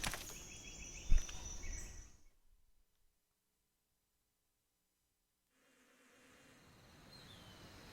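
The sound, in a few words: bees buzzing in video game Metal Gear Solid 3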